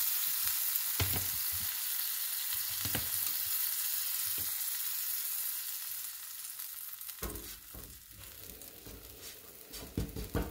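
Hot cakes fry in butter in a pan, a soft continuous sizzle with a few sharp clicks and scrapes, growing busier and louder toward the end.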